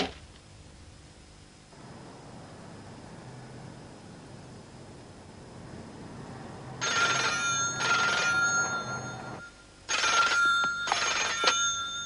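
After a stretch of quiet hiss, an old-style telephone bell rings in two loud bursts, close and insistent.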